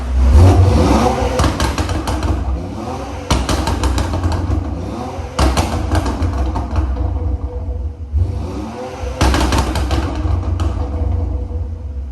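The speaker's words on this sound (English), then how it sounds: "You can hear right now the burble that she's been asking me for." A BMW X3M fitted with downpipes revs in several bursts, each rising throttle blip falling away into a loud crackling, popping exhaust burble, with brief lulls between the runs.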